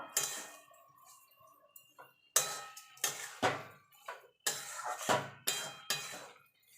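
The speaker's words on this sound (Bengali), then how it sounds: "আরও হাফ বাটি আমি চিনি এখানে অ্যাড করে দেবো দিয়ে ভালো করে মিশিয়ে নেব" A spoon clinks and scrapes against a pot as sugar is stirred into carrot halwa, a series of close, sharp metallic taps and scrapes with short pauses between them, no voices.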